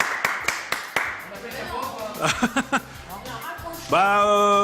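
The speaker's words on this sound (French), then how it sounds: "allez, on l'applaudit quand même" A handful of distinct claps ring out from a small French studio audience, then chuckles and light laughter follow before a voice starts talking.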